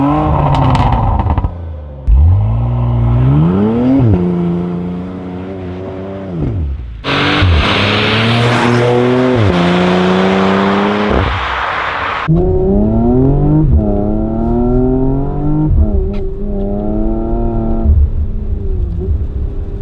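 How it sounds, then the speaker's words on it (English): A 440-horsepower Porsche Macan SUV climbs a snowy mountain pass, its engine loudly revving up and dropping through gear changes, with a burst of rushing wind noise in the middle. "we jump in the car and go for my first drive up this small mountain pass"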